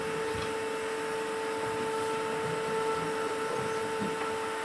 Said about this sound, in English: So we're just going to get that another hoover in there.